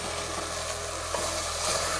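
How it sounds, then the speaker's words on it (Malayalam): Potatoes frying in oil for potato minestra, stirred constantly to keep them from sticking; a short, steady sizzle with soft stirring scrapes, no voices. "ഒരു സ്വല്പം ഒന്ന് പിടിക്കാതെ ഇളക്കി കൊടുത്തുകൊണ്ടിരിക്കണേ."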